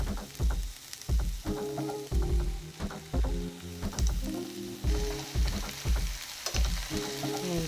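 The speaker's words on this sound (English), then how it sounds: "Then I'm going to stir in the coconut curry sauce." Tofu is stirred into coconut curry sauce in a pan, with repeated rhythmic scraping and clunking strokes over a low simmering sizzle, close and without talk.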